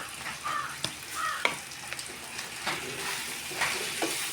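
Jackfruit masala seasoned with turmeric and pepper is stirred in a pan, giving a steady soft sizzle broken by scattered scraping knocks of the spoon, close and moderately quiet.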